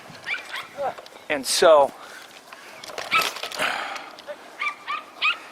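A dog lets out a few short barks and high whimpering yips in bursts, close by, mixed in among a person's speech.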